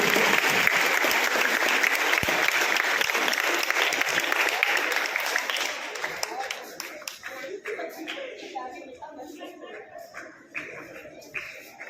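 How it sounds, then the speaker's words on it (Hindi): An audience at a school debate applauds the student debaters, loud sustained clapping that gradually thins into scattered claps, with some voices audible beneath. "जोरदार तालियां बच्चों के लिए"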